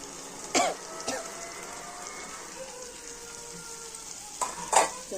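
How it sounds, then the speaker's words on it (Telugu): Curdled milk for a milk bhurji spattering in hot oil, a quiet, steady sizzle punctuated by two louder clatters of a utensil against the pan. "నూనెలోకి వేస్తున్నాను."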